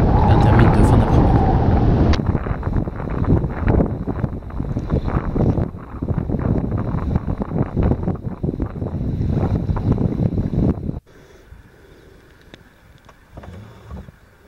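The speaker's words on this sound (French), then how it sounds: "y a du vent qui s'est levé en fin d'après-midi" Heavy, gusty late-afternoon wind on the Loire in September roars across the microphone for most of the clip, with a loud rumbling buffet before dropping to a quieter background near the end.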